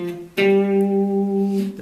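A short chromatic melodic pattern on guitar: a held note, then a quick pick attack into a new sustained pitch that rings steadily before a final change, with a slightly effected, electric tone.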